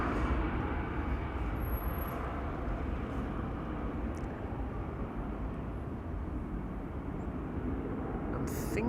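Aircraft at Amsterdam Schiphol Airport, among them a KLM jet for Mumbai being pushed back for departure from runway 18 left, heard as a loud, steady, broad engine roar that holds evenly with no breaks.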